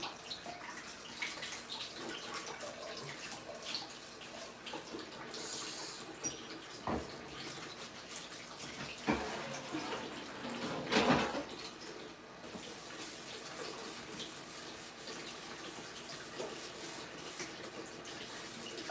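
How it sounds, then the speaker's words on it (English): A pan being washed under a running tap, with quiet continuous water flow and scattered splashes and clinks that swell briefly partway through, fairly faint and with no talking. "I'm gonna wash this pan"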